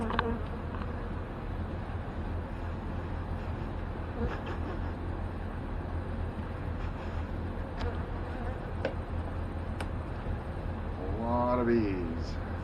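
Honey bees inside an open beehive give off a steady, close, dense buzzing drone throughout, with a few faint knocks and a brief human voice rising near the end.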